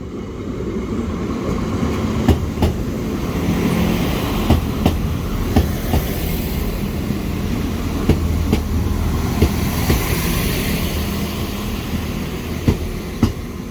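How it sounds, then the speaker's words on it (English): A train passes a level crossing at Jordanstown station, a loud, close, steady rumble with repeated clickety-clack wheel beats over the rail joints spaced through the pass, no voices. "The other train is just coming now, so it is."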